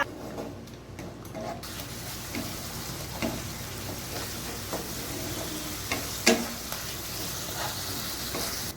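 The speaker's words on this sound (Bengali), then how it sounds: "আমি এখানে সামান্য জল দিয়ে দিলাম। এরপর আমি ভালোভাবে নাড়াচাড়া করে নেব।" Fish curry masala with a little added water, stirred in a pan over medium-low heat, simmering and sizzling steadily with scattered scrapes and clinks of the spoon, no voices.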